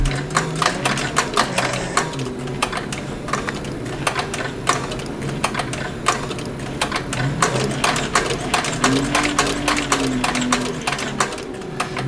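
A Techsew 5100-SE sewing machine stitches through thick 37oz waxed canvas for a dopp kit, producing rapid, loud rhythmic mechanical clatter in bursts with brief pauses and a whirring motor tone.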